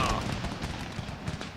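A volley of musket gunfire in Empire: Total War's Battle of Charleston: dense, crackling reports rolling together in a sustained, moderately loud burst, with no one speaking over it.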